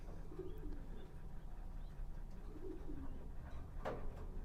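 A racing pigeon hen coos softly in low, rolling phrases, two or three close calls over a quiet background, with a brief brighter sound near the end.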